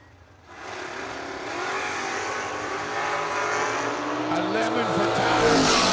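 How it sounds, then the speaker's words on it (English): A dragster and a Camaro launch down a drag strip at a racing event, the engine roar building loud and steady over several seconds as a track announcer talks over it. "Tyler Leach, 501 the dial in the Dragster, and Tom Bueller in the wheel stand in Camaro, down 609."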